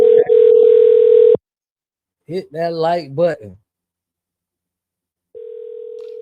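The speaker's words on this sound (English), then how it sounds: "Fam ain't answering the phone." A telephone call rings out unanswered on a live show, with a steady tone that stops, someone speaking briefly in the gap, then the tone starting again.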